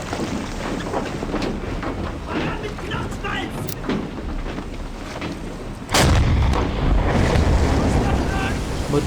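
Submarine deck gun in the game Silent Hunter 5 firing at a merchant convoy, one heavy boom cutting through a steady roar of wind and sea, with a voice talking over it.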